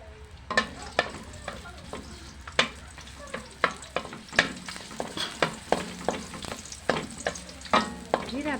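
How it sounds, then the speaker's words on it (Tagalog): Garlic fries in a pan as chicken is started for ginataang manok, a steady sizzle broken by regular, fairly loud scraping strokes of a spatula stirring close by. "Simulan ko na ang aking pagluluto ng aking chicken ng bawang."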